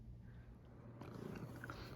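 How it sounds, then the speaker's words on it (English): A cat purring up close indoors, a steady low rumble that grows slightly louder and rougher halfway through, with no talking. "he's purring. He's a cutie."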